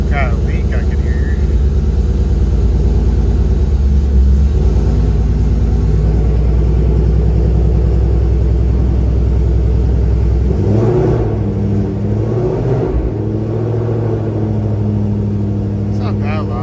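Ford GT500 with full bolt-ons and headers idling and revving, hood open, a steady loud engine rumble with a swelling rev partway through, voices talking over it.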